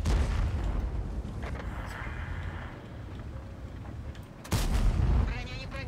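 Heavy tank guns booming in World of Tanks, a deep rumbling blast near the start and another loud report later, over low battlefield rumble with someone talking intermittently.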